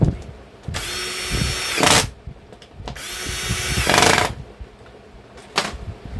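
Power drill driving screws into a boat seat during a cheap reupholstering job, in two long whining bursts that ramp up as each screw bites, with pauses and clunks between them.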